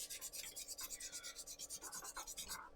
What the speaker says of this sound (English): Get rid of the rest whilst I'm sanding.